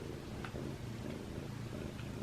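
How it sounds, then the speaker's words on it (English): A feral cat purrs steadily in a trap, a soft, continuous rumbling drone heard up close, with a few faint clicks and rustles over it. "He's purring so loudly."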